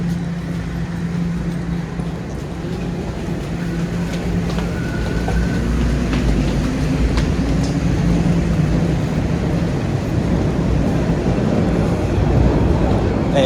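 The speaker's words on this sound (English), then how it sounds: "that was the eastbound train I just missed" A Toronto subway train, an eastbound Line 2 car, rumbles through the station in a steady, loud low roar that builds slightly over several seconds, with faint station noise around it.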